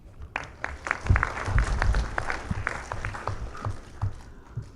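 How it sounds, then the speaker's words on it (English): An audience claps after a talk, a short burst of scattered applause rising quickly then thinning into individual claps. "Let's give him one more round of applause, please."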